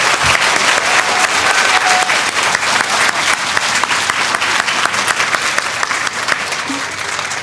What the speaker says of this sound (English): Let's give a round of applause to our pre-K friends.